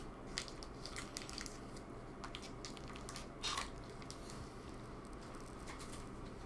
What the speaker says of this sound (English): chew a bit more into the microphone so we can all appreciate the taste